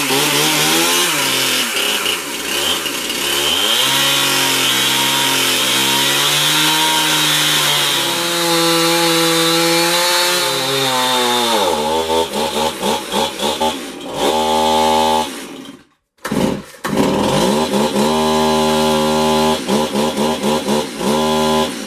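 A chainsaw roars and bogs as it cuts through a walnut log, revving up and down loudly up close, with a brief cutout as the chain stops before restarting.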